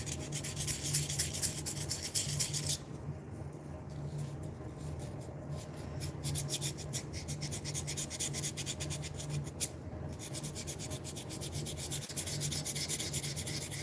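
Sandpaper rubbing back and forth over a surface in steady, continuous strokes, with a brief pause in the middle and a constant low hum underneath.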